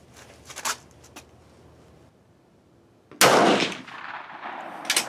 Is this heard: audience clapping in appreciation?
no